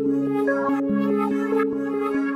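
A melody run through an Effectrix vocal preset in an FL Studio beat, its sustained synth notes rhythmically chopped into short stuttering gaps, steady and fairly loud with no voices.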